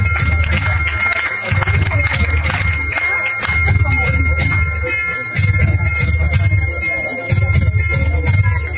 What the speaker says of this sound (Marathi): जोरात टाळ्या झाल्या पाहिजे